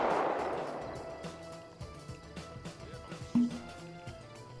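Distant gunfire in a military video game, with an MG42 machine gun among the weapons, popping in scattered short reports under a noisy battlefield background, one sharper shot standing out near the end.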